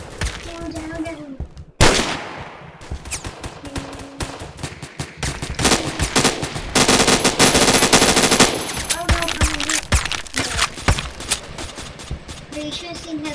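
A machine gun fires in the video game Phantom Forces in loud, rapid automatic bursts, with a long continuous volley in the middle. Players talk in between the bursts.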